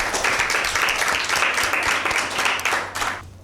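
An audience at a Bible quiz show claps together in dense, steady applause that fills the room, then tapers off sharply at the end.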